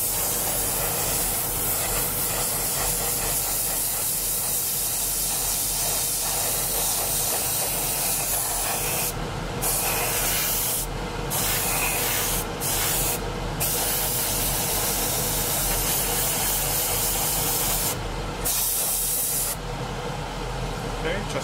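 Spray gun laying paint on a Phantom model aircraft, a continuous close hiss of spraying with several short sharper bursts as passes speed up, while a voice talks over the spraying.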